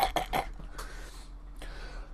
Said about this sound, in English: Prepare for the coughing to start, because I can feel it starting at the back of my throat.